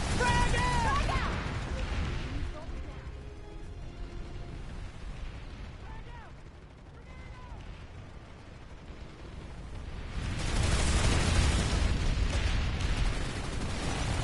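Frag grenade explosions in Planetside 2 battle, loud rumbling blasts at the start and again near the end, with a quieter spell of background combat noise and voices between.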